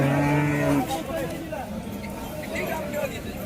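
A cow at a cattle market in Maharashtra lets out one low, drawn-out moo, followed by murmuring voices and general background bustle.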